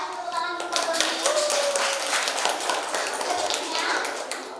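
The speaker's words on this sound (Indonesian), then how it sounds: "Tepuk tangan dulu buat Doni" A class of students clapping for a classmate during an accounting lesson, a brisk patter of claps filling the moment with some voices mixed in underneath.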